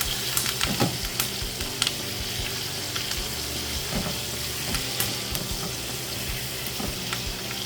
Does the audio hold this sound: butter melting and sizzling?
yes